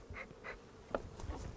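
Honey bees buzz around a hive box in an apiary, a faint, intermittent hum with brief close passes, no talking.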